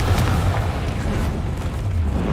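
A Confringo spell explosion in Hogwarts Legacy, a sustained booming blast with dense low rumble and crackling bursts that keeps steady and loud throughout, no voices over it.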